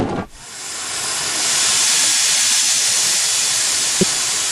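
Steam traction engines gathered at a steam park show for a public steering event, giving off a loud, steady hiss of escaping steam that stays constant throughout, with a brief low thump near the end.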